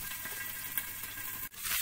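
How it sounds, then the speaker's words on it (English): Onions frying over a high flame in a Chinese home kitchen, a steady loud sizzle with bright crackle throughout, close and alone. "you can hear that high flame, and it's really frying it up in there"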